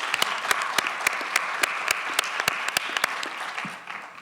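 Conference audience applause, a dense wash of clapping with sharp individual claps standing out near the microphone, tapering off at the end.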